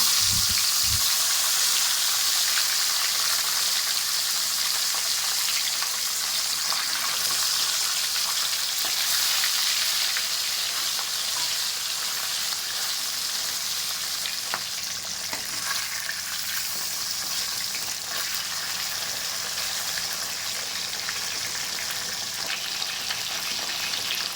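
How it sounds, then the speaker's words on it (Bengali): Tilapia fish frying in hot mustard oil in a wok, a continuous loud hissing sizzle that stays close and steady throughout, with occasional faint stirring clicks and no talk. "তেল গরম হয়ে গেছে, এবার মাছগুলো দিয়ে দেবো।"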